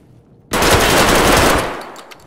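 Sustained burst of rapid automatic gunfire in the video game Escape from Tarkov starts abruptly, loud and close, roaring for about a second before tapering off into a fading tail with one faint trailing shot.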